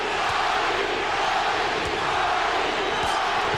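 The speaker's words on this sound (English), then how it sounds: "Crowd chanting, Johnny, Johnny, Johnny." A boxing arena crowd roars steadily at a Johnny Tapia fight, a dense, loud wall of voices with rhythmic chant-like pulses running through it from start to finish.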